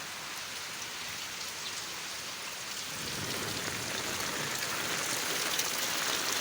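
Heavy torrential downpour, a dense steady hiss of rain striking surfaces that grows louder and fuller partway through, continuous with no talk.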